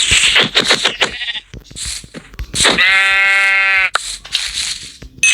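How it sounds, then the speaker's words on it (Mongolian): A sheep bleats in a video game, a long wavering bleat mixed among shorter bleats and crackly game sounds, loud and close, with no talking. "Оо дахиад нэг хонь гараад ирлээ."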